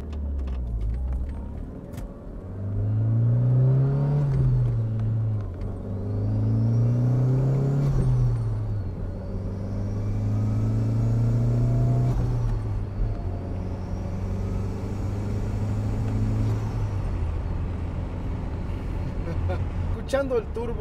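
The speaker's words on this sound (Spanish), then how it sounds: "Escuchando el turbo haciendo el ruido y escuchando la presión salir." A 1991 Toyota MR2 with a turbocharged 3SGTE engine revs repeatedly, its turbo spooling up in rising and falling sweeps, with a pressure release between pulls; loud and close, with faint talk beneath.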